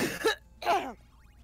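A person coughs twice, a rough harsh burst followed by a pause and then a second cough, close and fairly loud, with faint game music underneath.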